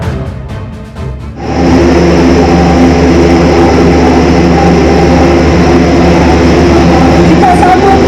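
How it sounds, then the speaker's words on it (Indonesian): An Airbus A400M military transport aircraft of the Indonesian Air Force arrives, its loud, steady propeller engine drone rising suddenly after a quieter opening and then holding close and continuous. "Pesawat terbaru milik TNI Angkatan Udara Airbus 400M tiba di tanah air Senin pagi."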